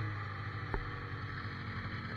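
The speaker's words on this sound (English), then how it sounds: "the motor in this sled's actually 30 years old" A 30-year-old snowmobile engine with a freshly cleaned carburetor idles steadily nearby, a continuous low droning rumble with a faint whine above it and one brief click partway through.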